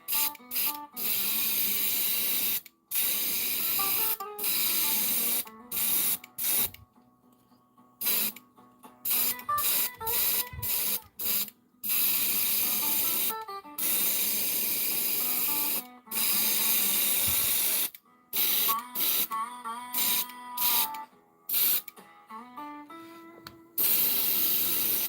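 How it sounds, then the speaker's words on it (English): Short hissing bursts of spray paint lay down a white base coat, one spurt after another with brief pauses, loud and close. "So I'm going to do a white base coat."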